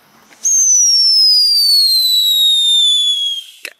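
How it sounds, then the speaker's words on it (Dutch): A whistling firework rocket (luchthuiler) lets out one loud, shrill, steady whistle that slowly drops in pitch for about three seconds, then cuts off with a crackle, alone with no talk. "En daaronder hebben we straks ook de luchthuilers."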